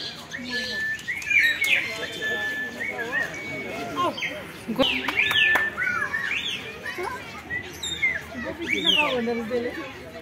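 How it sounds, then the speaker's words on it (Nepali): Rapid, high-pitched chirps and squeaky twitters from lovebirds, near and busy, mixed with voices talking and children in the background, in Jawalakhel, Lalitpur. "प्रेमी चरा यिनीहरू लभ बट रहेछ नि लभ बट"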